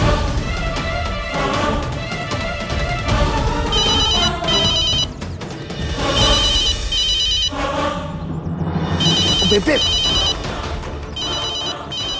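A telephone rings repeatedly in bursts of bright electronic tones, filling the room, with a brief spoken word near the start.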